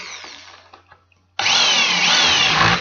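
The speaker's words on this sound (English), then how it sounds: "this is how I will be doing the drill holes" A power drill boring holes in a gourd whirs steadily for over a second after a brief quiet pause, loud and close, with a high grinding tone.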